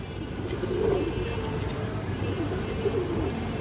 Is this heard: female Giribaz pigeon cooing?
yes